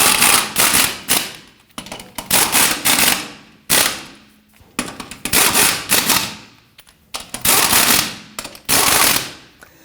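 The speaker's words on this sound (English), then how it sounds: "we'll start all of our lug nuts by hand, and then we'll snug them down" Rapid bursts of an impact or air wrench snug the lug nuts onto a wheel of a 2007-2017 Jeep Patriot, six loud, close rattling runs of about a second each separated by short pauses.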